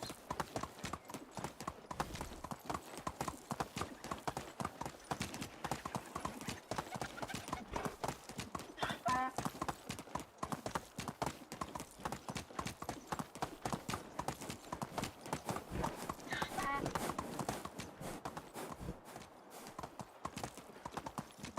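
Horse hooves clip-clop steadily and continuously while riding in the medieval survival game Medieval Dynasty, with a couple of brief neighs partway through and faint talk in places.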